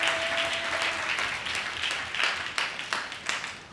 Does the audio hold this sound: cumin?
no